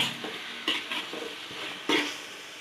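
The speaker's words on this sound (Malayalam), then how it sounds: "നല്ലോണം ഒന്ന് ഇളക്കി കൊടുക്കുക ആ പച്ചച്ചുവയൊക്കെ മാറുന്ന വരെ" Onions are stirred and sautéed in a pan for Kerala-style fish biryani, soft sizzling under a few sharp scraping strokes of a spoon against the pan, close up.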